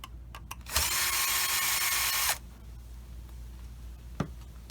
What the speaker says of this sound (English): When you're removing the screws here on the side,